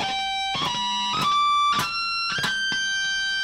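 Bright, ringing electric guitar harmonics picked with the right hand, several sharp struck notes in quick succession with high overtones that sustain briefly, played alone at moderate loudness.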